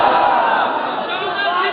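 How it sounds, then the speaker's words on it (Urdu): A large crowd at a religious gathering shouts slogans in unison, a loud, dense roar of many voices that holds steady for a couple of seconds before trailing off slightly at the end. "اب نعرے میرے لگا رہے ہیں."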